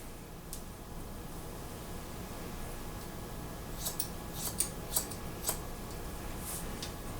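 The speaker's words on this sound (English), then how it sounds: "I'm trimming his hair." Scissors trimming a boy's short hair during a men's and boys' clipper haircut, heard as a few faint, quick metallic snips clustered late in the clip over quiet room hiss, with no talking.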